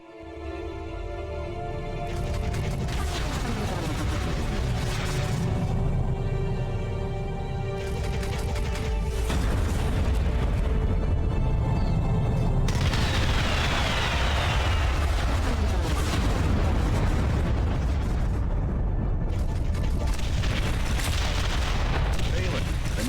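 Bombers strike a hacked nexus in the strategy game Ashes of the Singularity: Escalation, producing a sustained barrage of booming explosions and gunfire-like crackle under a steady droning soundtrack, loud and continuous throughout.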